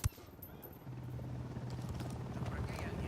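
A helicopter in the video game Ghost Recon Wildlands: a low, steady rotor thrum with a faint whine, building slightly, over a quiet game ambience.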